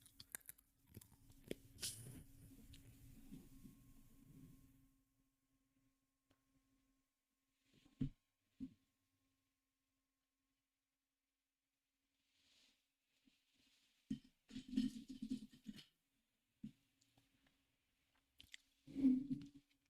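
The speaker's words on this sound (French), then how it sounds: "c'est le moment où je le croque" Hard candy lollipop bitten and crunched close to the mouth, a few sharp isolated crunches spread out amid quiet stretches, after an earlier burst of chewing and mouth noise.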